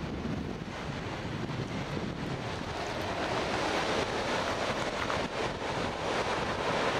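Steady wind roars across the microphone at Loch Sport surf beach, mixing with a continuous wash of breaking surf. The sound stays loud and unbroken throughout, with no voices.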